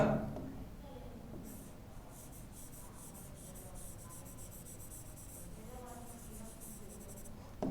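A teacher writing on a board: a faint, soft, continuous scratching and rubbing of chalk strokes, heard alone in a quiet room.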